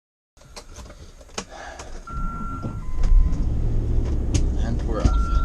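A vehicle pulls away and drives on the road after unhooking a trailer, engine and road rumble building from quiet to a steady loud drone, with a short beep and a person talking over it.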